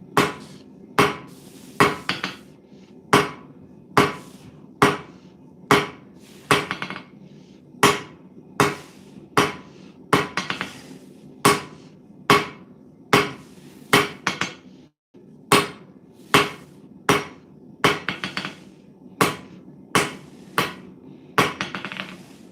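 Hammer blows strike a hot cut chisel on metal stock at a forge, about twenty sharp, ringing impacts in a steady, evenly spaced rhythm, loud and close, with a brief pause near the middle.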